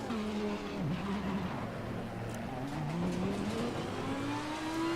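Car tyres slip and scrabble on a wet racing line with traction control cutting in, in the Assetto Corsa Competizione racing game, the engine note dipping then climbing steadily, loud and continuous with no talk.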